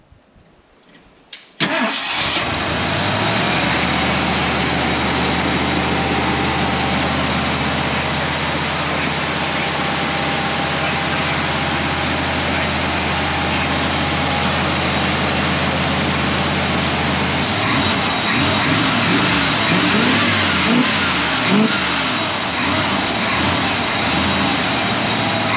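A Ford 400 V8 with a freshly swapped hot cam fires up and runs loud and close, holding a steady rumbling idle, then the note turns choppier and lumpier for the last several seconds, with no talking.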